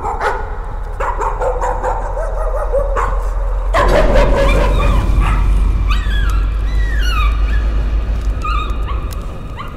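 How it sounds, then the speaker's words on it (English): A dog in the horror game Layers of Fear barks and yips close by in short bursts, with whimpering tones amid a low hum of ambient noise. "Is there a dog?"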